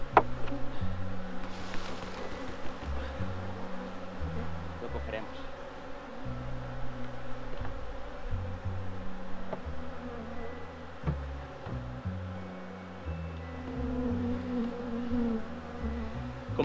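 Honey bees buzz steadily at their hives in a Spanish apiary in January, a dense continuous drone that stays close and loud throughout, with occasional handling knocks and no talking.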